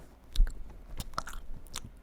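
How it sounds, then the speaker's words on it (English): Loud, wet chewing and biting sounds come close up in irregular crunchy bursts over about two seconds, with no talking. "Loud chewing really gets under my skin."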